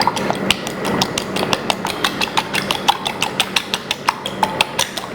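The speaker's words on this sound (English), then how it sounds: "We just whisk up the eggs a little bit." Two whole eggs are whisked in a bowl, giving a fast, steady run of light clicking taps as the whisk strikes the sides, close and fairly even throughout, with no talking.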